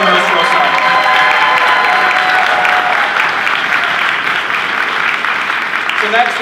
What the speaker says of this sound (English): Please give a huge round of applause for Carlos Rosa